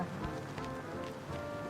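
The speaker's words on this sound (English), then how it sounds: "heavy rain right now" Heavy rain drums and patters steadily on a surface, a constant moderately loud wash with a faint tonal hum running beneath it.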